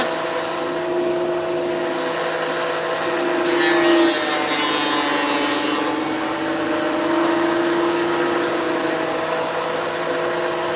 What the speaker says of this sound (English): Danny, it's a Makita